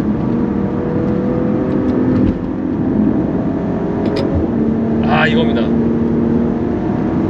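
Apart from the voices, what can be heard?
Maserati Quattroporte Modena Q4 car accelerating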